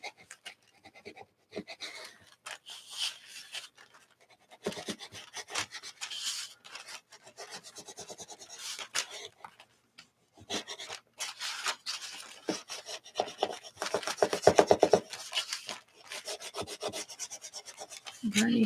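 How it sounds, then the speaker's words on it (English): A bone folder burnishes tape down onto art journal paper in quick, close rubbing strokes that come in irregular bursts with short pauses between them. "Get my bone folder and burnish it all down."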